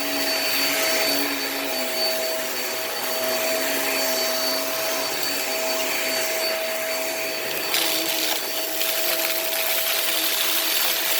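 A Hoover React Pro Pet all-floors vacuum cleaner runs steadily and loudly throughout, a constant whining drone with a fixed tone and no pauses or voices.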